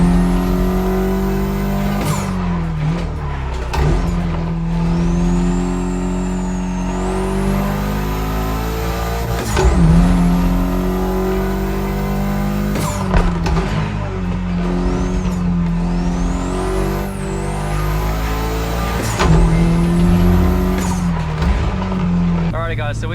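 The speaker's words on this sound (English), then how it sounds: "we are driving my EVO 6 right now" A Mitsubishi Lancer Evolution VI is driven hard, its engine revving loudly and rising through the gears with sharp drops at each shift, heard from inside the car with voices talking over it.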